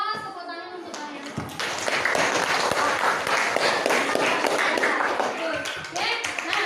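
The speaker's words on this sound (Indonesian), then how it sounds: "Aplaus, tepuk tangan untuk kalian." Students in a classroom clap together after finishing their presentations. The applause starts after a voice speaks, then swells into dense, close clapping that lasts several seconds before thinning out.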